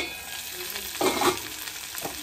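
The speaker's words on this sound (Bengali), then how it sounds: "ভালো করে নাড়িয়ে নিতে হবে" Taro corms and potatoes in a pan are stirred with a steady low sizzle, and two louder scraping bursts come as the pieces are pushed around, close and clear with no talking.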